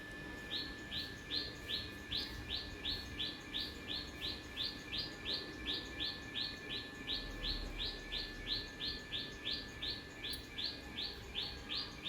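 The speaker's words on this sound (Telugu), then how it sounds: "చిట్టుపిట్ట బాగా అల్లరి చేస్తుంది అప్పటి నుండి. ఇక నాన్ స్టాప్గా అరుస్తుంది." A small bird chirps nonstop in rapid, evenly spaced bursts that repeat throughout, fairly close, over a quiet morning background with a faint steady tone.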